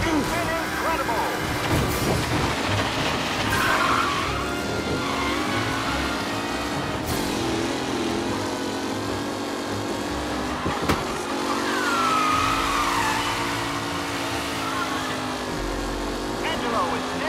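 Race cars roar around a track on the final lap in Mafia Definitive Edition, engines revving loudly and continuously under an announcer's voice and a busy game mix.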